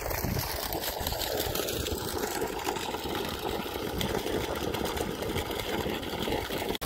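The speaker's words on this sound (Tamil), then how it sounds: "ஓப்பன் வெல் மோட்டார் போட்டாச்சு" An open well motor pump runs steadily nearby, a continuous even drone with a watery hiss that holds level throughout and cuts off at the very end.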